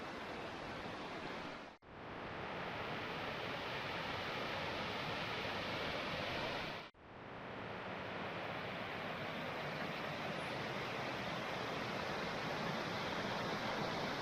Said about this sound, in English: Yeah, that's quite fast flowing water.